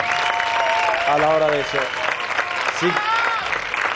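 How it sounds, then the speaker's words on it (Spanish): A television studio audience claps in sustained applause, loud and continuous, while a person speaks briefly over it. "yo quiero que le den un aplauso sobre todo por eso"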